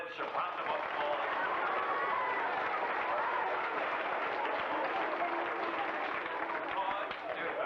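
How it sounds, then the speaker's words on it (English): Enthusiastic audience applause at a 1980s Pittsburgh magic show, a dense continuous wash of clapping with crowd murmur that stays loud and steady throughout. "let's give our newlyweds a round of applause"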